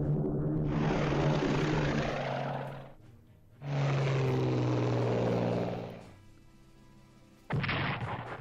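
Aircraft in the WW2 strategy game Strategic Command WW2 roar past in two long, loud, rumbling engine passes, each lasting a few seconds, followed by a short sharp burst at the end, with no one talking.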